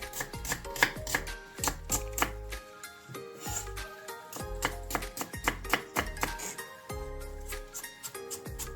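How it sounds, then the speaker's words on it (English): Onion and ginger chopped with a knife on a cutting board, steady close-up thuds and taps in quick bursts with short pauses, while a melodic music track plays underneath. "Let's start cutting onion and ginger."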